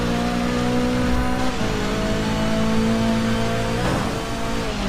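Racing car in the Forza 6 Apex video game driving through a large puddle, a steady loud engine drone with a brief splashy whoosh near the end, no talking.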